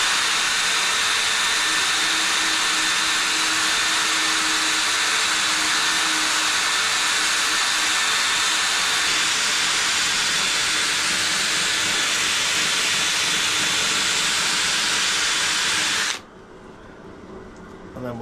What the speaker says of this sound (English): you can sort of blend that out with a drum sander